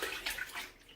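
Two cans of coconut milk, one full-fat and one light, pour into a saucepan in a steady, close liquid splash lasting about a second.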